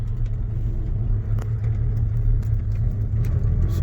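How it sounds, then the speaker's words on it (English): The engine of a Rover P4 110 2.6 saloon with manual gearbox and overdrive, misfiring slightly on one cylinder, rumbles low and steady while driving, close and fairly loud with faint ticks and knocks on top. "It does sound like it's running off. It's just missing a little bit there on one of the cylinders."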